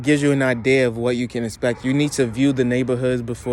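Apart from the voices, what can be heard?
No distinct noise like a dog, phone or traffic.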